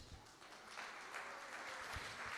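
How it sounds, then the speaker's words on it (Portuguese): A church congregation applauding, a steady wash of clapping from many hands at moderate distance, fairly faint and continuous. "vamos aplaudir a palavra de Deus."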